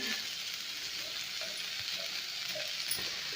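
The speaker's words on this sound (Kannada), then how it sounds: "ಇವಾಗ ಬೆಂಡೆಕಾಯಿ ಚೆಂದ ಹುರ್ಕೋಬೇಕು ರೀ ಅಂದ್ರೆ ಲೋಳೆನೂ ಇರಬಾರ್ದು" Okra frying in oil in a pan for a North Karnataka buttermilk curry, a steady close sizzle with occasional stirring scrapes and light pops.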